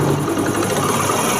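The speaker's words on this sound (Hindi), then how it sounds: "जैसे ही हमने बाइक का थ्रॉटल दिया है" A Honda CD 70 motorcycle fitted with an HHO hydrogen kit runs steadily as the throttle is opened, a close, continuous mid-pitched engine drone with a buzzing, sewing-machine-like vibration and no talk over it.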